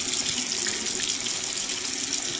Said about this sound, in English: Keep that water running, because now your hands is actually clean condition.